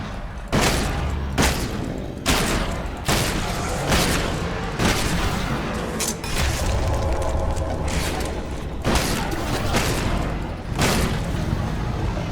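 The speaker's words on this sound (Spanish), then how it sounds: "9 tiros de esta escopeta para cargarnos al behemoth este." Shotgun blasts against a behemoth in the ELEX II video game, about nine loud, booming shots spaced a second or two apart over a continuous rumbling battle background.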